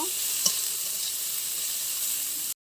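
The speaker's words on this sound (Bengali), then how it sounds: "এগুলো আমি হালকা করে একটু কড়াই নেড়ে নেব।" Loud, continuous sizzling of spices frying in a wok, with a brief scrape of stirring near the start before it cuts off.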